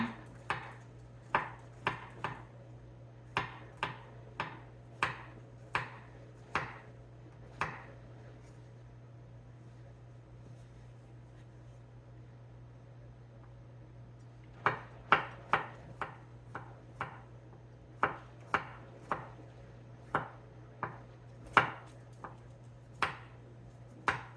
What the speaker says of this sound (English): I'm going to cut all this garlic up very thin and not get it off of the cutting board